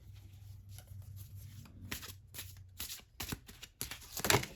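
Tarot cards shuffled by hand in several quick riffling bursts and soft slides, close and fairly quiet, growing a little louder toward the end, with no talking.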